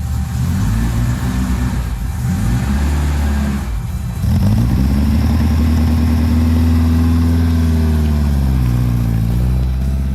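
A Seven kit car's engine runs loudly and steadily close by, then its pitch rises and holds at a higher, even drone from about midway, with no voices.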